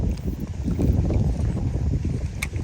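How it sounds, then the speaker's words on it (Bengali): Strong wind buffeting the microphone outdoors while fishing by open water, a loud continuous low rumble with gusty swells and no talking. "খুব বাতাস"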